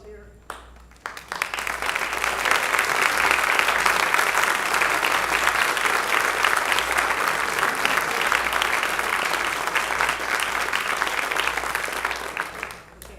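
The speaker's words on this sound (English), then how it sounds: "So I'd like the Movers and Shakers to please rise and get a round of applause here." Applause for the Movers and Shakers at a Celebration Sunday gathering, a full room clapping steadily for about twelve seconds after a brief pause, loud and sustained before easing slightly at the end.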